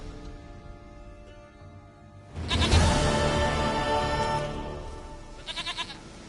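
A goat bleats in The Witcher game, preceded by a quiet stretch and then a loud, drawn-out cry. A shorter wavering bleat follows at the end, with no talk over it.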